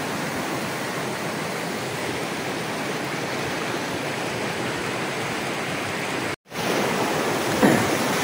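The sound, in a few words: river flowing beside rice field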